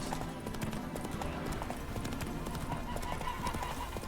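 Horse hooves clip-clop in a steady trotting rhythm through The Witcher 3 video game, moderately close over a busy background.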